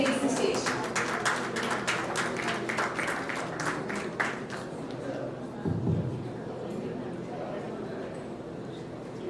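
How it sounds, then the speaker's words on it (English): An audience at a training and placement officers' conference applauds as a speaker takes the stage, a burst of steady clapping over the first half that fades out into room noise with a low thump. "Let's give him a big round of applause as he takes the stage."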